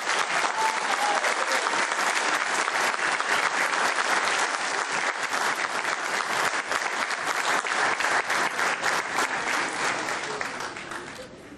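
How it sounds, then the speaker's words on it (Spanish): A large crowd at a GEN party rally in Mar del Plata gives sustained, dense applause, loud and even for about ten seconds before fading slightly at the close. "El aplauso bien fuerte para Hermes Wiener."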